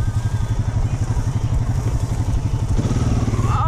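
A Honda Rancher 420 ATV engine runs loud and close as the quad drives through a ditch outdoors, with a steady throbbing motor note and occasional clatter and bumps.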